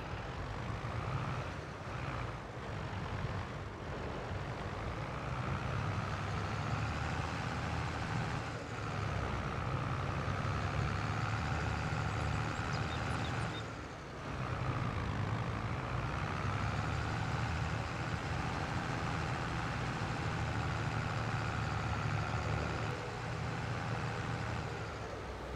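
Steady tractor engine drone while driving in Farming Simulator, a continuous loud motor hum with a brief dip midway, no talking.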